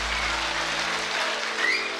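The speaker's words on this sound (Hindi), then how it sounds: "तो मैं चाहता हूँ एक बार जोरदार तालियों से आप अपनी मौजूदगी दर्ज कराइए।" An audience at a poetry recital claps in a steady, even wash of many hands, fairly close and unbroken for about two seconds, with one short brighter tone near the end.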